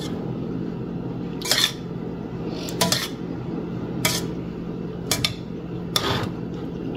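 A pot of Hershey's Kisses and coconut milk being stirred, with a spoon clinking against the pot about five times at uneven intervals over a steady low background hum.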